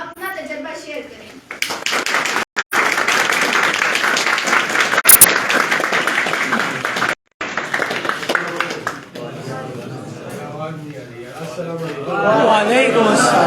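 Audience applause welcoming a guest speaker to a professional online-earning training session in Pakistan, a long sustained burst of clapping from a seated crowd with brief breaks, a voice speaking near the start and again as it fades.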